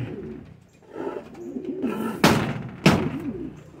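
Pigeons in a loft coo in soft repeated rolling calls close by, broken by two sharp slams or bangs, with quiet background noise.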